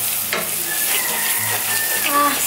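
Ginger paste, cumin paste and salt fry in a hot pan for a chicken biryani, a loud close sizzle with stirring scrapes and a few clinks running through.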